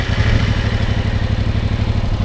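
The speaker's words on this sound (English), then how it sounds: "now I can start the bike again when I have the clutch in" Motorcycle engine running after being started with the clutch pulled in, a loud close idle with a rapid, even thumping pulse and light mechanical clatter, no voices.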